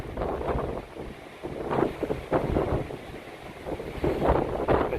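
A storm drives strong wind and waves against the jetty at Semaphore, South Australia, in a heavy, continuous roar of gusting wind buffeting the microphone, with surging surf underneath and no talk.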